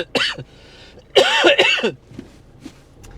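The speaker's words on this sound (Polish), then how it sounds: "Kaszel mnie jeszcze długo będzie trzymać," A person coughs several times in harsh, close bursts, a single cough then a quick cluster of two or three, followed by quieter breathing.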